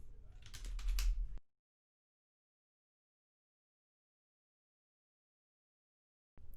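Quick keystrokes on a computer keyboard as a name is typed into a new contact entry, a dense close burst of about a second and a half that stops abruptly into silence.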